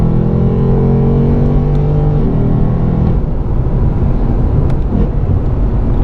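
A 2018 Lexus RC F coupe with a 477 hp engine accelerates hard from inside the cabin, a loud, steady engine roar whose pitch climbs and then shifts as it gears up, heard alone with no talking.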